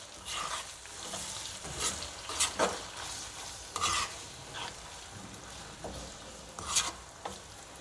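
Beef pulao masala with tomatoes being stirred in a pan, a spoon scraping and turning the mixture in irregular strokes over a soft, continuous sizzle, close up.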